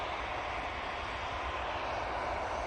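A Ryanair Boeing 737-800 arriving from Prague at Manchester Airport gives off a steady, fairly faint engine roar that fills the whole moment without change. No voices are heard.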